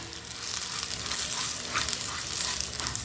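Chili and turmeric spice powder is stirred in a hot pan, giving a close, continuous dry frying hiss with soft scraping throughout and no talking.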